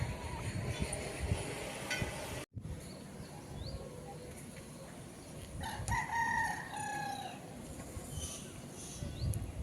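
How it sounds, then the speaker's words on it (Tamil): A rooster crows once at dusk in the middle distance near a terrace garden, a drawn-out call rising over outdoor background noise and scattered bird sounds. "இங்கே சாயந்தரம் அடையிற டைமில் கூட கோழி கூவுறது"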